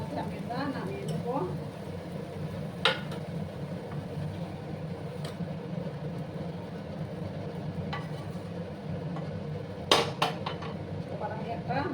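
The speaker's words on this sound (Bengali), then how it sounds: "অফ করে একটা বাটির মধ্যে আমি এটা নামিয়ে নেবো।" Cooked capsicum is moved from a pan into a bowl, with a few sharp metallic clinks and scrapes of utensil on cookware over a low background hum while someone talks.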